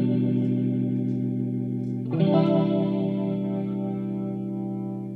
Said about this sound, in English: Sounds like it's slowing down over time,